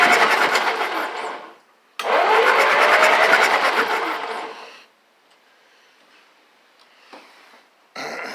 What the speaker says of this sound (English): That sounded like a good, healthy engine to me